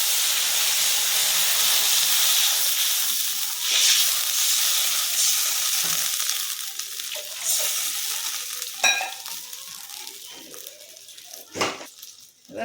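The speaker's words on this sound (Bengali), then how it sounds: "কাঁচা লঙ্কা এবার জল দিয়ে দিচ্ছি" Water and green chilies hit a hot pan for a mustard-poppy hilsa curry, giving a loud, steady steam hiss and sizzle that slowly fades, with a few spoon scrapes and knocks near the end.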